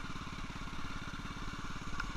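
An old motorcycle engine runs steadily nearby, a continuous rapid low thumping pulse with a rough mechanical rattle.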